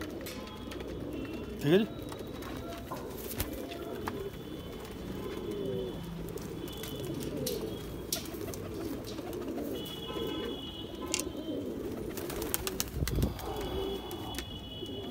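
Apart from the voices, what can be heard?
pigeons cooing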